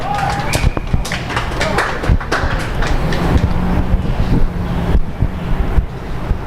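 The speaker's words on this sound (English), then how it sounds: "Seems as though the wind has died down a little bit." Wind buffeting a microphone outdoors at a varsity rugby match, a steady loud rumbling roar with gusty swells that fills the whole stretch, faint crowd and field noise beneath.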